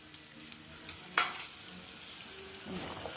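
Curry ingredients for a shark dish, such as green chilli, garlic, curry leaves, ginger and mustard, fry softly in sesame oil with a faint sizzle, plus a sharp utensil clink and light stirring.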